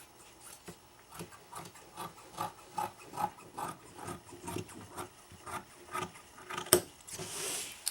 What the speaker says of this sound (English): Smooth it out with your hands and make sure it's all nice and even.